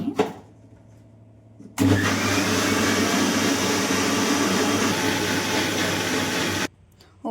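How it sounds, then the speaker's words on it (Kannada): Mixer grinder blending a Herbalife shake with water: after a quiet moment the motor kicks on abruptly, roars steadily and loudly for about five seconds, then cuts off. "ಒಂದು ಮಿನಿಟ್ ಗ್ರೈಂಡ್ ಮಾಡ್ಕೊಂಡು ಬರ್ತೀನಿ"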